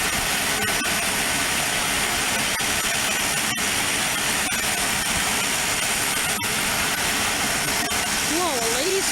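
An aircraft engine drones steadily at Aurora Municipal Airport, a constant broad roar from nearby that fills the whole stretch, with people talking over it.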